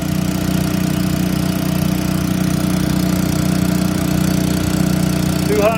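A pressure washer engine runs with an AR pump attached, holding a steady, loud idle-like drone with a constant low hum throughout and a slight shift near the end.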